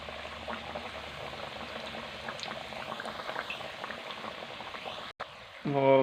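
Egg and potato samosas frying in very hot oil, a dense, steady bubbling and crackling close by, briefly cut off near the end before a louder burst of sound.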